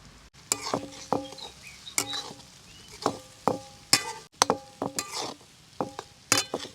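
Onion and tomato with salt and masala being stirred in a pan over a wood-fired clay stove, with regular metallic scrapes and clinks of the spatula against the pan above a low steady background.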